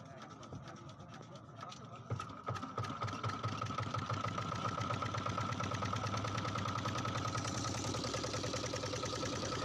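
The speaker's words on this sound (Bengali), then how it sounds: "এই যে চালু করছে জেনারেটরটা" A boat's generator engine at Mukutmanipur kicks into life and keeps running close by with a fast, steady mechanical chugging.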